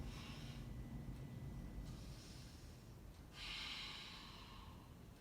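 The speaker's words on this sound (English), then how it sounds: "3 rounds of breath" Slow yoga breathing during a flow class, soft audible exhales and inhales through the nose drifting in and out, faint and close with no talk.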